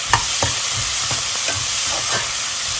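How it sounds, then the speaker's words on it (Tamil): Whole green chillies sauté in hot oil for prawn biryani, a steady sizzle broken by about half a dozen sharp scrapes and stirs of a spoon in the pan, close and alone. "இது நான் வதக்கிட்டு காட்டுறேன் ஒரு நிமிஷத்துக்கு."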